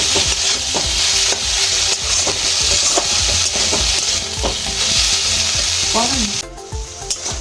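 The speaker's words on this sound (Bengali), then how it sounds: "এবার আলুটা মাছের সাথে আমি একসঙ্গে ভেজে নিচ্ছি" Loud, close sizzling as a fish and mashed potato mixture fries in a pan for fish chops, with steady spatter and scraping stir strokes throughout, no talking.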